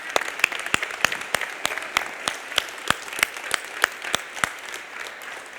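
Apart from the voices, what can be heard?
congregation applauding for Jesus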